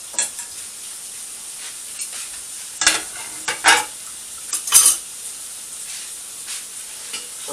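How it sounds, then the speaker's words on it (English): Strips of bacon in a hot pan beside chilli con carne sauce, a soft steady sizzle with occasional clinks of a utensil against the pan. "So now I'm going to be putting the bacon in there."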